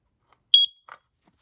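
An i9010 smoke alarm gives one short, loud, high-pitched beep followed by a faint, brief click-like chirp in a quiet room.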